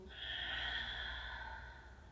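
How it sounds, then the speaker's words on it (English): A single deep exhale through the nose and mouth during a yoga breathing cue, a soft airy breath lasting about two seconds, close and quiet with no talking. "And breathe out."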